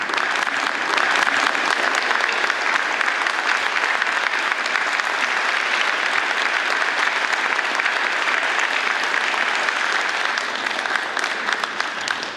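An audience at the UNESCO International Literacy Prizes award ceremony applauds the prize winners with loud, even, continuous clapping that fills the hall from start to finish without letup.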